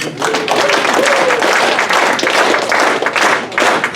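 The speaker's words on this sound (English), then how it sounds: "maybe you guys can help me out a bit with some clapping" A stand-up comedy audience claps in a steady rhythmic beat, loud and close, with the repeated claps running continuously for several seconds and a faint voice briefly underneath.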